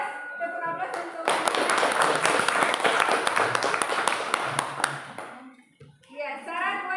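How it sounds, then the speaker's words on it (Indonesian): A classroom of high school students bursts into applause, several seconds of dense, lively clapping that swells and fades, with a teacher's voice speaking before and after. "Aplaus, tepuk aplaus untuk"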